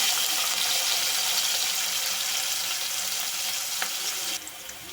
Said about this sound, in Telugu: తర్వాత ఆనియన్స్ వేసి కొంచెం బ్రౌన్ కలర్ వచ్చేంత వరకు వేయించుకుంటున్నాను